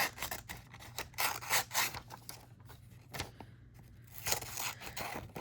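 Scissors cutting through glossy junk mail magazine paper, with repeated rasping snips and crinkling, rustling paper handling at close range and no voices.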